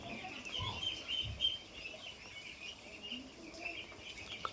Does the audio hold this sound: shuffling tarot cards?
no